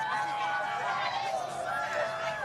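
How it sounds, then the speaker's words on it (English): A large outdoor crowd watching a total solar eclipse in Jonesboro, Arkansas swells steadily as totality arrives, a continuous wash of distant cheering and excited voices that holds level throughout. "let's listen to the crowd as this goes into totality"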